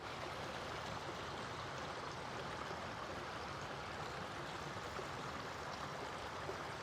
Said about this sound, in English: I just love hearing the sound of water.